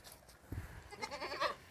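Goat bleats close by in a goat-rearing setting, a short wavering cry followed by a second, louder bleat with no talking.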